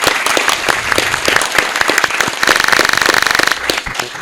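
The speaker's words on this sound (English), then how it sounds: "Let's give her a round of applause." An audience at a breakfast panel on AI in the workforce bursts into loud, dense applause, with sharp claps throughout and a fuller, steady swell of clapping in the middle before it thins out.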